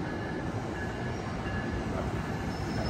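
An Amtrak passenger train passes on the track close by, giving a loud, continuous rumble of wheels on rail with a faint steady whine and no talk.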